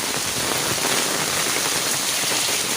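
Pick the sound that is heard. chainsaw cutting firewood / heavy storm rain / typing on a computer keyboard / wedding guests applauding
heavy storm rain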